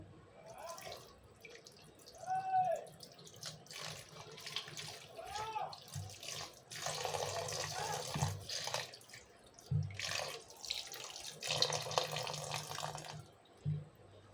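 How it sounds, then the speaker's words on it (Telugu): Water is poured into a pan of raw cucumber and fish curry in several splashing bursts, some longer and some brief, while someone talks between and over the pours. "ఇందులోనే కూరకు సరిపడా నీళ్ళు పోసేసుకుందాం అండి"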